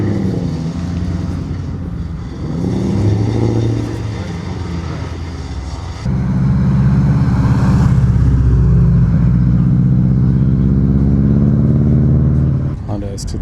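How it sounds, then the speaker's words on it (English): A white Honda S2000 drives past on a touge mountain road at an event. Its engine note swells and grows louder midway, then holds steady, close by, with people talking over it. "Honda S2000 in white."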